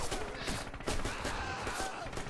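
Rapid gunfire crackles in the World War II shooter Red Orchestra 2, a dense fusillade of overlapping shots at mid distance, continuous and loud throughout the short burst.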